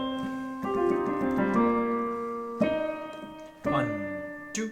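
A piano playing the fourth-time fill of the worship chorus "Worthy", sustained chords that ring out and shift every second or so, each new chord struck clearly, close and solo.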